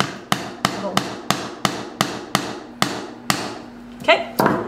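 A hammer drives a nail into a wooden sign with about ten sharp, evenly spaced, ringing blows struck close by, with no talk between them.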